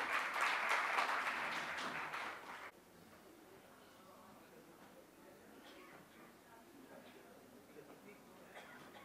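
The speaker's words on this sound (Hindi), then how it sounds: "जोरदार तालियों से आप इनका स्वागत करें।" An audience at a literary seminar welcomes a panelist with applause that starts fairly loud, then cuts off abruptly after a few seconds, leaving quiet room tone and faint sounds.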